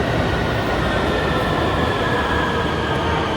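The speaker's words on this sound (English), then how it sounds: "Time to take the subway back." A subway train in Lanzhou running with a loud, steady rumble and broadband rushing noise, heard from inside the moving car with no talking.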